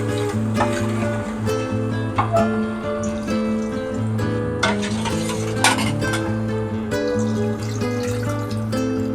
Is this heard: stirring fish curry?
yes